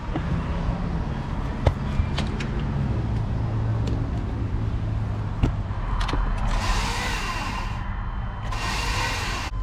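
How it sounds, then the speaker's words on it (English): A car starter motor fails to engage a stripped flywheel, producing repeated whirring and grinding with sharp metallic clicks and clunks. Brief hissing bursts appear near the end, all heard close up with no talk. "Starter motor is not engaging the flywheel."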